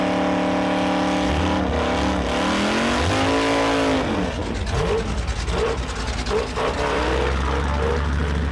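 A race car engine roars and revs, its pitch climbing and falling as it accelerates and shifts, loud and close, with tires and a passing whoosh.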